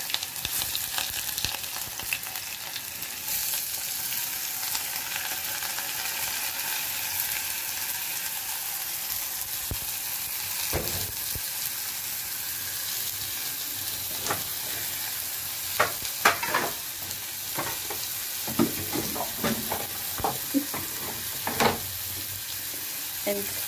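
Garlic and tangerine fry in a hot pan while being stirred, giving a steady loud sizzle with scattered scraping clicks from the utensil.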